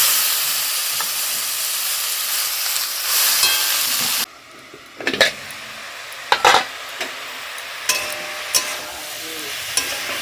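Cabbage ghonto cooking in a pan, a steady close hiss of frying and steam for about four seconds, then quieter with scattered clinks and stirring scrapes.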